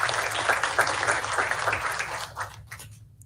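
An audience at a school board of education meeting applauds HVS students, with dense steady clapping that thins out and fades near the end.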